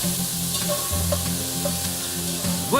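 Pancetta fries in a pan, giving a steady close sizzle with a few brief clinks and stirring sounds over it, and no voices.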